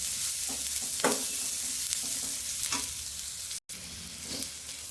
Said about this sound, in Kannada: ಇಲ್ಲಿ ಒಗ್ಗರಣೆ ಹಾಕ್ತಾಯಿದ್ದೀನಿ